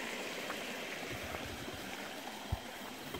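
A forest stream flows and trickles steadily at a moderate distance, a soft continuous wash of water with one brief knock partway through and no voices.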